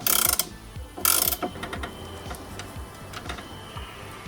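A ratchet clicks as a bolt is tightened on a Fiat Panda. Two loud bursts of close clicking come first, then quieter scattered ratcheting ticks. No voices.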